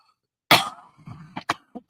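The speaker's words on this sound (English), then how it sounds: "You're gonna have to excuse me for the coughing and sniffling this week." A person with a cold coughs once hard, then gives a few shorter coughs and throat-clearing bursts in an uneven run, close and loud in a quiet room.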